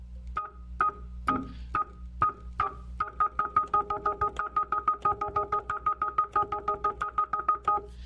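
Hammond organ notes with the percussion set to normal give a crisp percussive attack, first slow separate chords, then a fast steady run of repeated staccato notes, clear and alone.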